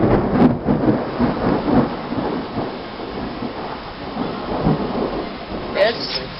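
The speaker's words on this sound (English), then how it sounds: "It's starting to rain." A thunderstorm in a residential neighbourhood, with steady rain and hail pattering around and low thunder rumbling through, loud and continuous, with a brief voice near the end.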